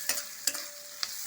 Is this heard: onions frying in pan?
yes